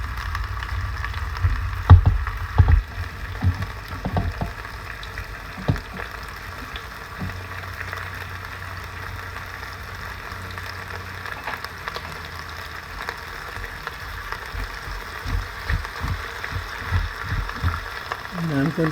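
Garlic, onion and leek cook in an Instant Pot for braised beef ribs, a low steady sizzle with intermittent stirring knocks and scrapes against the pot, heavier near the start and end.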